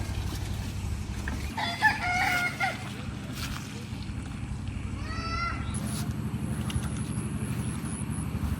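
Chickens cluck and call nearby over a steady low rumble and wind, with a short burst of louder fowl calls near the start.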